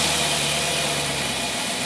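An engine fitted with a Carter carburetor and no choke or idle system runs at a steady, low, rumbling idle, close and continuous with no talking.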